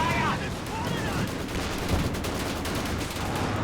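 A Maxim machine gun rattles in Company of Heroes 2, in a 4v4 battle, as dense, continuous gunfire and battlefield noise under a commentator's voice.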